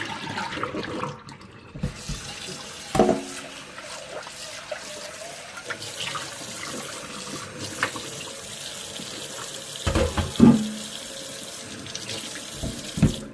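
Water runs and splashes into a sink for several seconds, with a few clunks and knocks around it.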